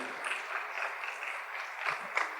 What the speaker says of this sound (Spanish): quiero que saludemos también con ofrenda de palmas a quienes nos siguen a través de las redes sociales